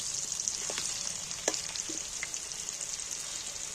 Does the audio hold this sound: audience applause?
no